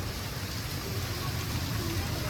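Heavy rain falls in Banaskantha district beside a small buffalo pen with a leaking tin roof, a steady, dense hiss of downpour that continues unbroken throughout with no voices.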